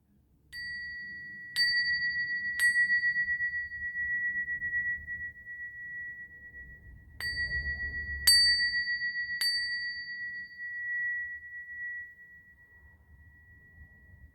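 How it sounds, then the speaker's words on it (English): Small bell is struck six times in two clusters of three, each a clear ringing tone that sustains and slowly decays in a quiet room, no talk over it. "And I'm going to ring the bell."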